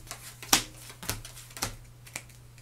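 A deck of playing cards is shuffled on a table with a series of crisp, close slaps and snaps at an irregular pace of roughly two per second, heard alone with no talk.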